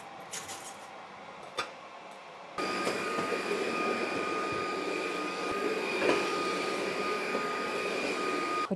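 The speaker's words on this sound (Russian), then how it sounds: "Хочу оставить отзыв об этом пылесосе." A Dreame vacuum cleaner switches on after a couple of seconds of quiet room noise and then runs with a loud, steady whine and rushing airflow for the rest of the clip.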